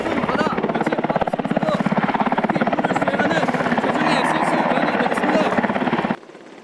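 A military helicopter hovers close overhead during a sea air rescue training drill, its rotor thumping in a loud, fast, steady beat over a deep engine roar that drops away sharply at the end.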